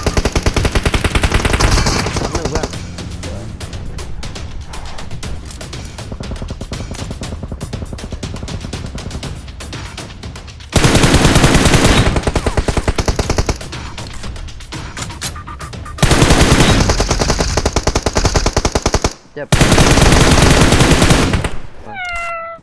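Loud bursts of automatic gunfire from the mobile battle-royale game PUBG Mobile, coming in long sustained volleys with short pauses between them, backed by game music and effects and heard without anyone talking.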